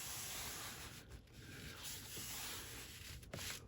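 A sheet of adhesive film is rubbed down with pressure onto a surface, giving a faint, steady scraping and sanding-like friction with a few brief stronger strokes.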